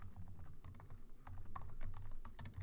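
Quick, continuous typing on a computer keyboard while entering Python code, a steady patter of light key clicks close by with no voices.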